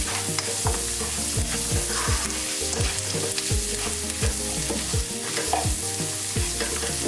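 Chicken curry with curry powder and turmeric cooks in a pot, a steady loud sizzle broken by a rhythmic run of scraping, knocking stirs from a spoon against the pot.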